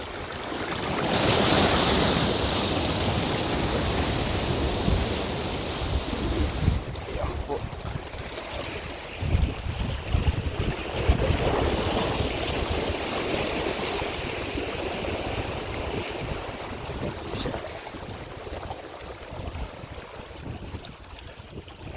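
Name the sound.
sea waves on rocky shore at Real, Quezon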